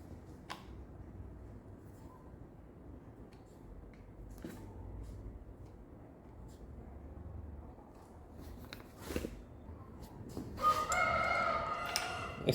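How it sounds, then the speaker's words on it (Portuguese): A rooster crows in the distance near the end, rising over a steady low rumble of background noise. The setting is a workshop during a Honda 160 motorcycle engine assembly, and a few faint knocks are heard earlier. "Essa é sacanagem desse galo, é só começar a gravar e aí ele começa a cantar."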